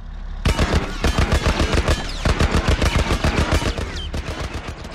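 Rapid bursts of heavy 50 cal machine-gun fire in The Last of Us video game, loud and close, with a run of fast repeated shots that continues almost the whole time.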